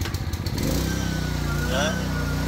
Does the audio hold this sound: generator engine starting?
yes